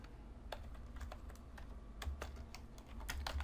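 Code being typed on a computer keyboard makes quiet, irregular key clicks, with bursts of quicker strokes and a few louder taps, set against a soft room hum.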